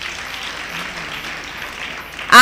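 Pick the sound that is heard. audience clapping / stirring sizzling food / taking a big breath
audience clapping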